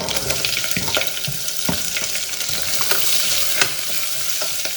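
Sliced shallots, garlic, curry leaves and green chilies fry in hot oil with a bright, crackling sizzle, broken by scraping clatters of stirring at close range.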